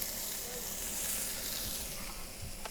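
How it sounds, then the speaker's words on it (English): A mirepoix of peeled celery, carrots and onions frying in a pan for a short rib cottage pie, giving a steady, close, bright sizzle with a faint stir or two and no talking. "Into that pan goes our mirepoix, our peeled celery mirepoix."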